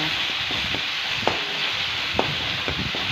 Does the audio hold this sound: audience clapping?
no